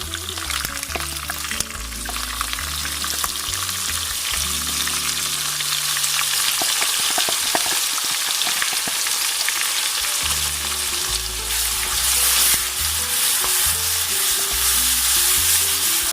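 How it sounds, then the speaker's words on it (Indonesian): Ground spice paste with ginger, galangal and lemongrass sautés in hot leftover oil for Cirebon-style beef sambal goreng, a loud, continuous close sizzle with stirring and scraping throughout and a brief pouring splash partway through. "Sisa minyaknya langsung kita gunakan untuk menumis bumbu."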